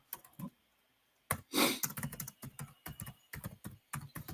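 Close typing on a computer keyboard, a quick run of crisp key clicks after a short pause, with a louder clatter near the start, no voices.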